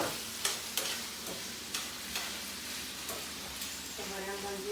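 Meat for jambalaya being cooked fast in a hot pan. It gives a steady moderate sizzle with a few sharp scraping stirs. A voice can be heard faintly beneath the sizzle.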